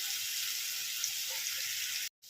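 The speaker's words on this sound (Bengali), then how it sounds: "আমি বাটিটা ধুয়েও একটু জল দিয়ে দিচ্ছি" Spice paste of mustard and poppy seed frying in a pan for borar jhal, with a splash of water added, gives a steady, close broadband sizzle that cuts off abruptly near the end.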